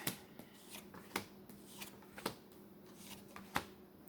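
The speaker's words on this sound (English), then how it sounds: "We'll pull some more cards." Tarot cards shuffled and drawn by hand, a series of crisp riffling flicks and taps at irregular intervals, close and quiet, with no talking.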